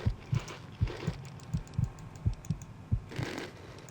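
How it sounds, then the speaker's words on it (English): A low-health heartbeat sound effect from the video game Fallout 3: a steady, deep, thudding pulse of about eight beats, each a muffled double thump, under faint game ambience. "That heartbeat that you can hear, that's just because we are close to death."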